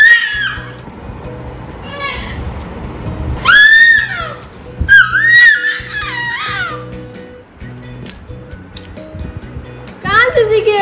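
A young child at home lets out several shrill, piercing screams and squeals in bursts, mixed with dishes and cutlery clinking and an adult talking nearby.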